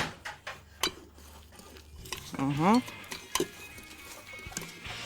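A utensil scrapes and clatters through baked béchamel pasta in a dish, with repeated close clinks and scraping strokes, a short voice breaking in midway.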